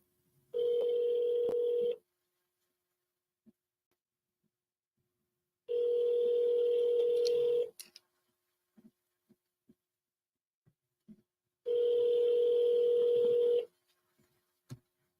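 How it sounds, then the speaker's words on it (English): A phone on speaker sounds three long ringback tones, each about two seconds, separated by pauses with faint small clicks and taps in between; nobody speaks. "let's just see if we can get somebody on the phone first"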